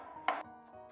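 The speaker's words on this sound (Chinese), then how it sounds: "1個去皮的胡蘿蔔先切片，" A knife slices through a peeled carrot on a cutting board, one crisp chop standing out loud and close, followed by quieter kitchen background.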